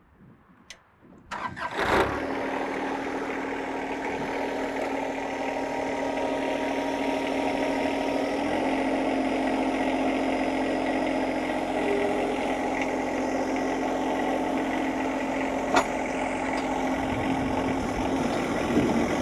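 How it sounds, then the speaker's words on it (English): A John Deere 1025R compact tractor's engine cranks briefly, catches and settles into a steady, loud idle that runs on close by with no talk. "Michael, go ahead and fire it up here."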